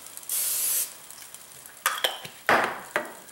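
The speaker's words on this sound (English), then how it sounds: "I'm going to put a little spray on this" A short hiss of cooking spray on a metal waffle iron, then a few quick clanks and light clatter of the iron, close by.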